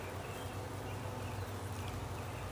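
Honey bees being installed in a top bar hive give a continuous close buzzing drone with a low steady hum underneath, unbroken throughout.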